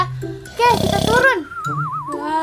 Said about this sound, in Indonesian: Itu adalah suara ngorok nenek aku guys.